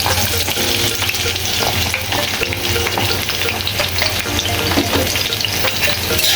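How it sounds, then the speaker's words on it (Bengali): Chopped onion hits hot oil already holding bay leaf, cloves, cinnamon and cardamom, giving a loud, dense, continuous sizzle and crackle with faint stirring underneath, close and steady throughout. "লবঙ্গ, দারচিনি, এলাচ দিয়ে দিচ্ছি গরম তেলের ভিতরে, নেড়ে চেড়ে দিচ্ছি। এখন দিচ্ছি পেঁয়াজ কুচি"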